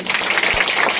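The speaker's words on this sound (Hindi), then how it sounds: "जोरदार ताली बच्चों के लिए" Brief burst of loud, dense clapping for the children at a Thursday church service, a crowd applauding steadily through the whole moment.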